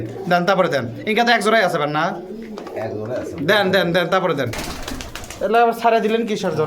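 Pigeons coo during a market sale at a pigeon shop in Bogura, their low murmurs running beneath loud, continuous conversation between buyer and seller.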